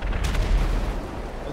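A low, rumbling explosion of an airplane in GTA Online, a loud boom with a sharp crack near the start that decays into a heavy roar, with no talk over it.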